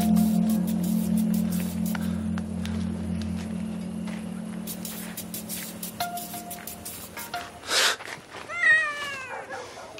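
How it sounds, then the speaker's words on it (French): A cat meows near the end, a couple of drawn-out rising-and-falling cries after a steady hum and scattered clatter. "c'est qu'un chat."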